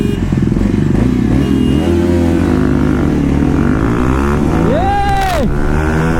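A KTM Duke 390 and a Bajaj NS400Z race side by side, their engines roaring loud and close throughout, with revs rising and falling as they accelerate.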